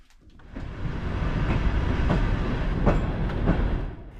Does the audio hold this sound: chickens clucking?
no